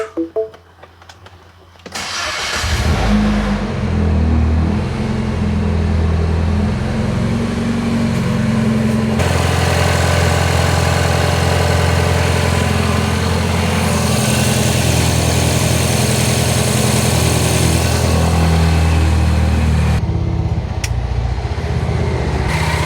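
A MINI Cooper S engine idling steadily up close with the AC on and its compressor spinning, a smooth continuous hum after a few brief knocks at the start and a faint whine layered over the idle.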